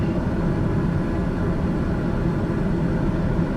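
Steady, loud broadband engine drone from an aircraft in Microsoft Flight Simulator 2020 as the throttle is pushed up on a flight from Monrovia, Liberia toward Lagos, Nigeria, continuous low rumble with no voices.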